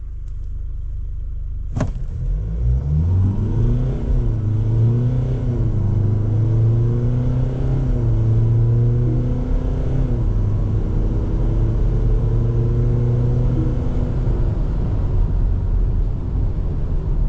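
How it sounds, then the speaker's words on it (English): A 2025 LDV Terron 9 pickup pulls hard from a standstill in a 0-100 run, the engine note rising through several gear changes, loud and close, then settling near the finish. "Okay, this time I won't build the engine revs on the brake."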